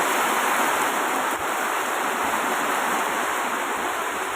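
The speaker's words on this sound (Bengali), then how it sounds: "দুপুরবেলা আমাদের বর্ধমানে রহমতের বৃষ্টি।" Midday rain falling in Bardhaman with a light wind, a steady dense hiss of drops that holds evenly throughout, with no voices.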